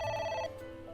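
A ringing telephone from the video game AI: The Somnium Files gives a short, bright electronic trill that cuts off halfway through, leaving quiet background music.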